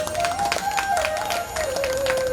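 Audience clapping at a Hindu Bhagavat Katha religious discourse, a steady continuous patter of many hands under a sustained tone, moderately loud throughout.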